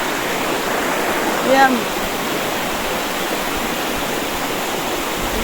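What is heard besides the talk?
small river flowing behind the speaker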